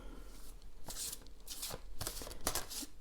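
Large cards riffle and slap together in several quick shuffling bursts, close and fairly quiet, with no talking.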